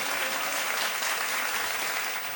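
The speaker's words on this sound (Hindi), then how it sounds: "बहुत सारी तालियां हिदायत साहब के लिए" Studio audience applause on a Ramadan poetry segment, a dense, loud wash of clapping that holds steady and fades slightly at the end.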